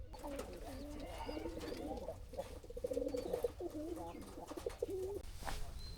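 Pigeons kept in a cage at a riverside village on a char in Bangladesh, several birds cooing in soft repeated rolling calls, fairly close, with light fluttering and rustling around them.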